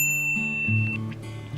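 A bright electronic notification bell rings once, a clean sustained chime that fades over about a second with a low tonal hum beneath it.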